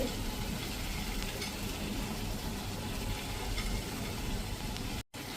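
Batter-fried radish pieces drop into a pan of simmering spiced radish curry, which keeps up a steady close sizzle and bubbling for several seconds until a sudden brief cut near the end.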